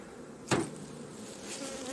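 Honey bees buzzing around honey-filled beehive frames, a continuous close hum with a brief knock from the frames, no talking.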